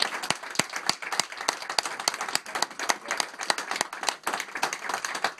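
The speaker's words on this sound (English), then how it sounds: "So, I think another round of applause here." Enthusiastic applause breaks out for a 50-year work anniversary celebration, a dense, steady round of clapping from a gathered crowd with no talk over it.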